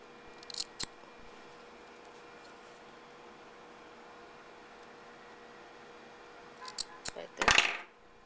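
Scissors snip crochet yarn ends on a finished diaper cover, a few soft clicks early on, then a brief cluster of sharper, closer cuts near the end, with a quiet room between.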